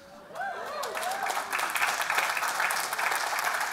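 An audience at a talk claps, the applause building after a brief voice and then holding as a steady, full patter to the end.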